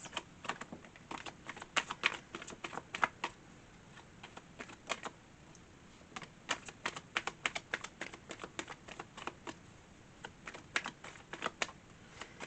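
Tarot cards are shuffled in a quiet room, a soft, rapid flutter of riffles and taps in irregular clusters that continue for several seconds, close and faint with no talk.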